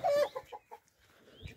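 A hen clucks close by in a farm setting, with a short burst of clucks at the start followed by quieter scattered sounds and faint rustling.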